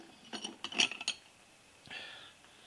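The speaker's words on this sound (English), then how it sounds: "I'm gonna spin this out." Metallic ratcheting clinks and rattles from the screw of a Wilton bullet vise being spun out in a welding shop, a close burst of quick mechanical ticks followed by a softer grinding rasp.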